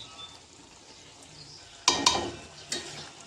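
Dried fish curry cooking in a pan over lowered heat, a faint quiet simmer followed by a few sharp clinks and scrapes of a spoon stirring against the pan, close up.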